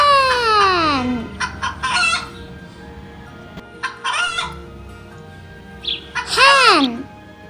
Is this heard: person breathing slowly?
no